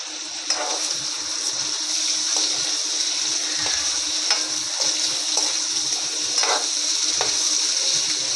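Paneer cubes frying in oil in a pan over a gas flame, a steady close bright sizzle with faint soft stirring and scraping sounds throughout.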